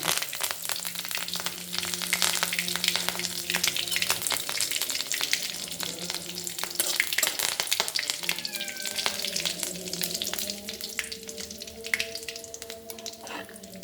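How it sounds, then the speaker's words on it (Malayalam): Mustard seeds and curry leaves sizzle in hot oil with scattered sharp pops and crackles, a steady busy frying sound at close range. "കടുക് പൊട്ടിട്ടുണ്ട്, കറിയാൻ പൊട്ടിട്ടുണ്ട്"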